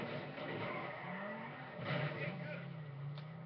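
Car driving and skidding in GTA 5 Online, with steady engine drone and tire squeal rising and falling through the stretch, louder near the middle, under faint background voices.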